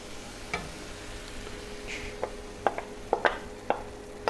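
Egg mixture being stirred in a pan over relatively low heat, heard as a series of light, sharp scrapes and ticks of the utensil against the pan that come faster toward the end, with no talk.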